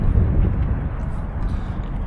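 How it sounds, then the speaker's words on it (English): Heavy low rumbling buffets and thumps against the microphone continuously, a loud wind noise that dominates the clip. "please excuse the wind in the background if it gets a little bit too windy"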